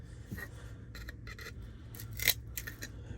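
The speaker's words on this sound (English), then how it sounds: "let's see if these can cut through this disc" ICON cutting pliers snip through a metal disc with a sharp crunching cut near the middle, surrounded by faint scraping and handling noises over a low steady hum.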